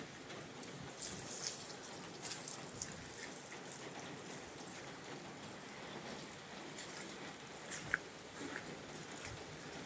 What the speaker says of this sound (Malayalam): കുറച്ച് വെള്ളം ഒഴിക്കാം.